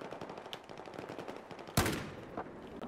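Saiga 12K shotgun fired in Battlefield 4, one loud, sharp blast standing out over a busy bed of distant gunfire and battle noise, followed by a couple of fainter reports.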